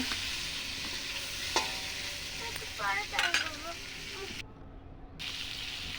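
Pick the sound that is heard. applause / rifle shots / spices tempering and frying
spices tempering and frying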